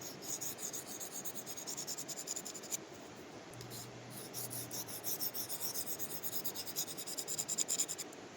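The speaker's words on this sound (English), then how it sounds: "just listen to how that blade's going along the sharpener" A knife blade is drawn repeatedly along a fine-grit sharpener outdoors, giving soft, close rasping strokes in a quick rhythm with brief pauses between passes.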